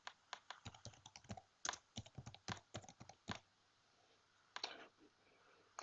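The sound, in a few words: typing on a computer keyboard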